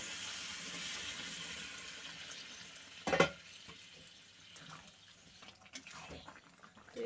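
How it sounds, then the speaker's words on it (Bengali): Hot water is poured into a pan of soybean curry, a single short splash rising briefly out of a quiet kitchen background. "এবারে আমি দিয়ে দিচ্ছি গরম জল"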